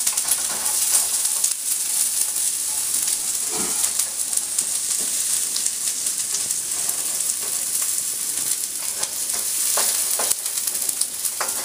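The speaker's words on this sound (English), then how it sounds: "You want to keep them moving a little bit because you don't want them to sear. You just want to sweat them." Carrots sweating in a warm pan for stuffed peppers, a steady close hiss of gentle frying with occasional scrapes and clinks as the pieces are kept moving, continuous and fairly loud throughout.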